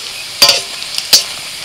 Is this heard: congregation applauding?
no